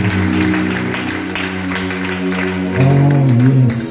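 Congregation at a church service clapping hands in steady rhythm, with sustained music and singing tones running underneath throughout.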